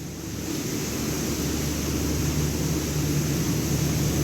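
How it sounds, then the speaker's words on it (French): A waterfall in a tropical greenhouse makes a steady, broad rushing roar of falling water, loud and close, with no voices. "Alors on monte en haut de la cascade."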